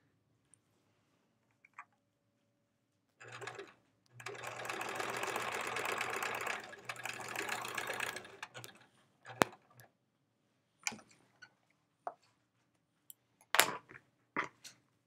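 Sewing machine stitching quilt pieces together, a steady mechanical whir lasting about five seconds, followed by scattered light clicks and handling taps, with no talking.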